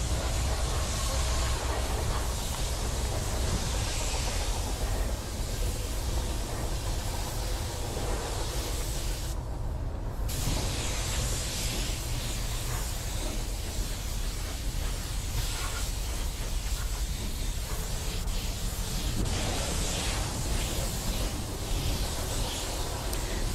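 A spray gun lays a metallic silver color coat onto a Jeep bumper as a loud, continuous broadband hiss. The spray runs steadily, with one brief break partway through.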